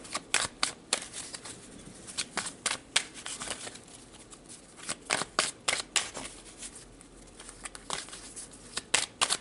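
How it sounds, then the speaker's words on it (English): Tarot cards being shuffled and pulled, a run of quick papery riffles and snaps in irregular bursts, close and fairly quiet, with no talking. "So let's pull more cards to see what that means."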